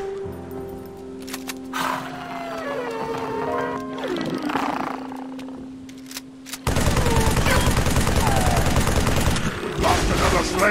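Heavy gunfire from a Halo 3: ODST battle, a dense fusillade of rapid shots and bursts that swells louder in the second half, with game voices and creature roars mixed in.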